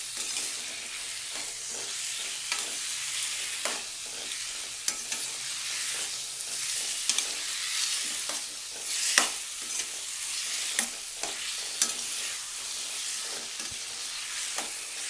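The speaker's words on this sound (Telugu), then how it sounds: "ముక్కల్ని వేసి హై ఫ్లేమ్లో పెట్టేసి కొంచెం లైట్గా వేగనిచ్చి మూత పెట్టేసి మగ్గనిచ్చుకోవాలి." Tomato pieces fry on high flame in a pan for a tomato chutney, a continuous close sizzle punctuated by frequent spatula scrapes and knocks against the metal, steady over the whole stretch.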